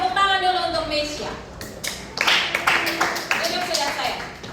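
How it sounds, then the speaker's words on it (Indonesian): A high school class claps for a student, a short scattered round of hand claps following a teacher's speech, with voices mixed in around the clapping. "Oke, tepuk tangan dulu untuk Mesya."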